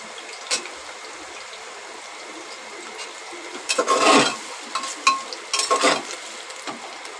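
Chopped onion sizzles in a pan, a soft frying hiss broken by loud scraping stirs clustered in the second half, heard close with no talk.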